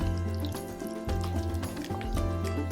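Sticky waffle batter is stirred thoroughly in a bowl, making continuous wet squelching and sloshing sounds up close, with soft music playing underneath.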